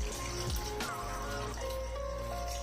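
Water pours into a wok holding chopped raw mangoes with their peels, a continuous close splashing stream without pause.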